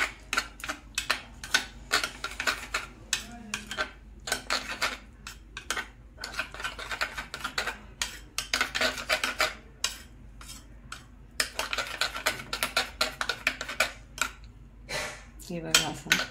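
A whisk or spoon clatters rapidly against a bowl while orange-coloured rava idli batter is beaten, producing dense, fast metallic ticks and scrapes in bursts with brief pauses, close and fairly quiet over a low steady hum.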